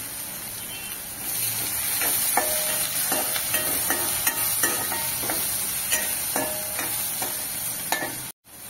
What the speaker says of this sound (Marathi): त्याच्यानंतर इथे मी 2 कांदे बारीक चिरून घेतले, ते परतून घेते.